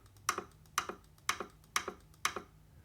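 Recorded button and mouse click effects: five sharp, close clicks, each a quick double snap, spaced about half a second apart in a steady rhythm against a quiet background.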